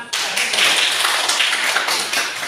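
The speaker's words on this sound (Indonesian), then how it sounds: "Tepuk tangan untuk anak." A classroom of pupils claps for a classmate in a short, brisk burst of many hands, fairly close and loud, fading slightly at the end.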